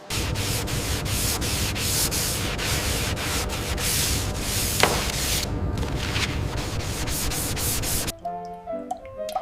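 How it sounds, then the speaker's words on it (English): Steady rasping of wet-and-dry hand sanding on primer over the body of a 1937 Bugatti 57 SC, continuous close strokes that fade near the end into quieter handling noises. "Primer sanding requires a keen eye and steady hand. The wet and dry method"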